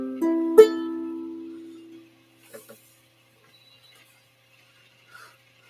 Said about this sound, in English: This is the sound of the ukulele.